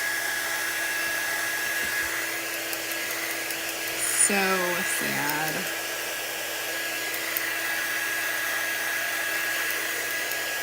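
A hair dryer blows a steady, continuous whir over a painted pine-wood reindeer craft, with a person briefly talking over it partway through.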